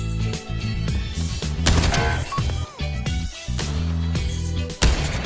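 Rapid gunfire from a VR shooter match in Pavlov on PSVR 2, bursts of shots piling into a dense, loud fusillade with game music and effects layered underneath and no clear talk.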